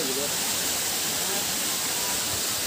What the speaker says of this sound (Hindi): मेरे सामने एक वाटरफॉल है, वो भी हिडन।